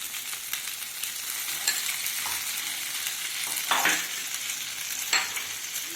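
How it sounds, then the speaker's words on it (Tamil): Bread soaked for Bombay toast sizzles steadily as it fries in ghee in a home kitchen, a continuous close crackle with occasional louder spits and bursts. "நெய் ஊற்றி செஞ்சுக்கலாம்."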